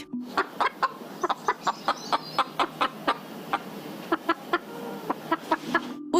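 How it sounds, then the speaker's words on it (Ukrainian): Domestic chickens clucking in a steady series of short, sharp calls, close by, with a faint background murmur of other birds. "Люди здатні розуміти кудахтання домашніх курей."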